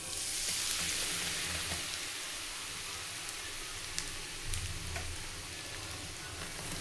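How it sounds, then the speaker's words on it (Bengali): Grated coconut fries in a pan, giving a steady soft sizzle with faint crackles and a few light stirring scrapes, close up and without any talk. "নারকেলটা একটু ভেজে নেবেন খেতে টেস্ট হবে"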